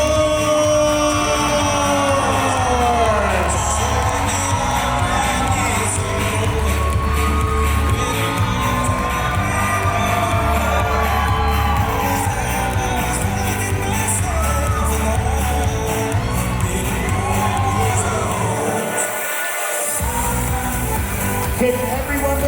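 Wedding guests scream, shout and whoop to welcome newlyweds entering a reception, a loud continuous crowd roar with cheering voices, a brief bang near the end and music under it.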